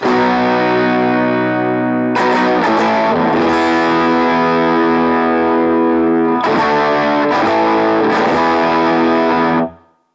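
A distorted electric guitar through a Vox amp model on a BOSS GT-1000 rings out in sustained chords, with two sharp strums restarting the sound before it cuts off at the end.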